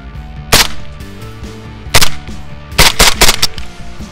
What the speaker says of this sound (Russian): Ну, как-то вот так стреляет.